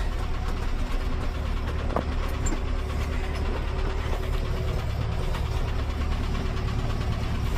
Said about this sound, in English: Give her a little throttle. And I'll show you the shuttle shift works.